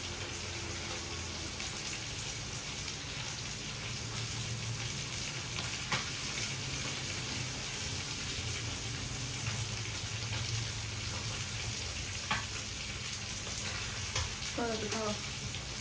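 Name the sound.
fish spattering while frying in oil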